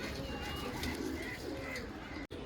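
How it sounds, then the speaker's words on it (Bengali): A pair of Lakka pigeons, a male and a female, coo softly over a dense background hum, with a brief gap near the end. "পায়রার কোয়ালিটি আপনারা দেখতে পারেন, এটি হলো মেল এবং এটি হলো ফিমেল।"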